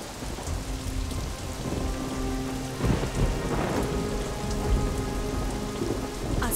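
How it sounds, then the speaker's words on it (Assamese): Heavy rain pours down steadily with rumbling thunder rolling in the middle, loud and close, with no voices heard. "ইমান জোৰকৈ বৰষুণ দিছে, মেঘেও গাজিছে।"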